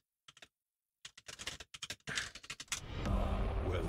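Rapid clacking of keys on a computer keyboard as a message is typed, a close burst of irregular taps after a brief pause, ending in a broad rushing noise.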